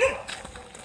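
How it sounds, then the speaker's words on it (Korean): A mother dog gives one short, sharp bark outdoors near a house in a rural area, heard up close and fading quickly into quiet background. "개 어미가 계속 짖고 있습니다."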